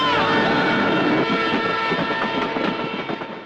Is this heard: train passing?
yes